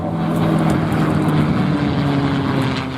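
A P-51 Mustang propeller fighter makes a close topside pass at an airshow, its engine a loud, steady droning roar that holds strong throughout with a low, rumbling hum underneath.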